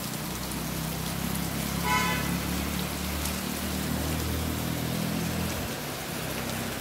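Heavy monsoon rain drums steadily in Karjat beside a road with flooding water, a low rumble of a passing vehicle and a short horn-like tone riding under the downpour.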